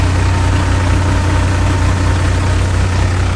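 A New Holland 3600 tractor engine runs steadily at around 1250 to 1300 rpm, driving a Shaktiman thresher on mustard, giving a close, constant low diesel drone with slight vibration and no talk.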